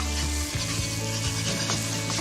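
Whisked eggs sizzle and fry in a hot stir-fry pan with chicken, a steady loud crackle with low pan rumble and a few soft stirring scrapes, no voices.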